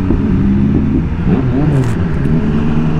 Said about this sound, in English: Oh, she gave it a rev for them.